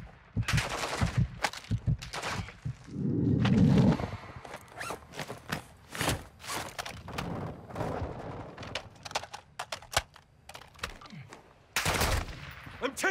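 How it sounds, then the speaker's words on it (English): Enemy gunfire in Call of Duty Warzone 2.0, repeated sharp gunshots and short automatic bursts cracking near and far, with footsteps, gear rustle and a heavier burst of fire in the middle. "I'm taking enemy fire!"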